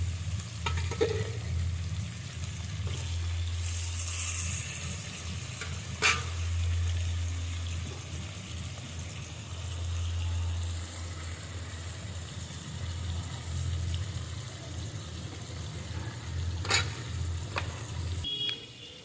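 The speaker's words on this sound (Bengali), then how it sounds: "অল্প অল্প করে আমি মাছগুলো দিয়ে দিচ্ছি।" Tilapia fish pieces frying in hot oil, a steady sizzle over a low droning hum, with a few sharp clatters scattered through.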